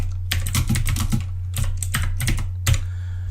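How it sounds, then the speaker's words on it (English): Typing on a computer keyboard in bursts of quick, clicking keystrokes with short pauses between, close and steady over a constant low electrical hum. "I would then be able to type as normal"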